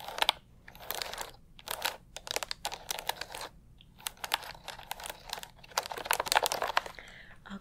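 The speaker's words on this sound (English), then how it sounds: "The mechanical keyboard makes a really good sound," Close, crisp clicking of fingers typing on a mechanical keyboard in uneven bursts with short pauses, loud and near, with no talking.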